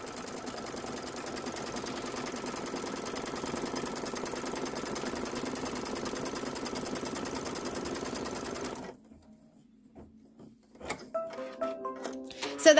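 An embroidery machine stitching a tack-down line through fabric in a hoop, a fast steady mechanical whir and chatter that stops abruptly, followed by quiet clicks and light handling noises.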